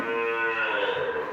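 A dairy cow at a Bangladeshi cattle market gives a single sustained, close moo lasting just over a second, loud and clear with no talk over it.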